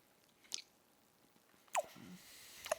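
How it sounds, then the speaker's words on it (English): Peanut butter being eaten produces a few quiet, close mouth clicks and sticky smacks, spaced apart and otherwise near silent. "I'm going to get right into the tasting of this peanut butter"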